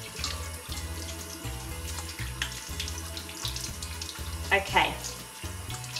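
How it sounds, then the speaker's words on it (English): Running tap water splashes steadily over raw octopus being rinsed clean of slime at a kitchen sink, a continuous close wash with a brief louder gush near the end and a short spoken word. "Again, give it a rinse, get rid of the slime, make sure it's clean."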